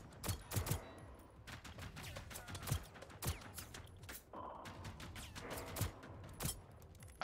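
Gunfire in Generation Zero, a series of sharp, fairly quiet shots in irregular bursts and single cracks spread across the stretch, sounding somewhat distant.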